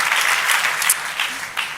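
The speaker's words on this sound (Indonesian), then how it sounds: "Sekali lagi tepuk tangannya paling meriah buat Yesus Tuhan kita." Church congregation applauding energetically during a worship service, a loud sustained wash of clapping with a few sharper bursts and rises, no speech over it.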